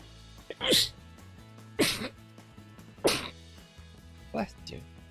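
A person sneezes, with several short sharp bursts spread across a few seconds over a quiet background of soft tonal hum; the bursts are moderately loud and close, with no speech between them.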